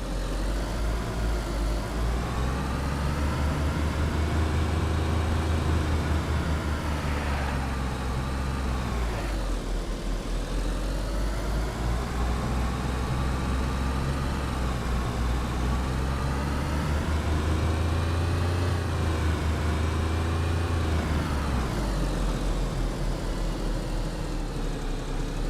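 A car in the survival game DayZ drives steadily through a big city, its engine drone loud and continuous for the whole stretch, rising and falling slightly with speed.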